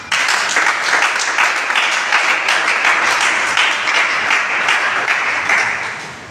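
Sustained audience applause fills a conference hall for several seconds, dense and even, then tapers off toward the end.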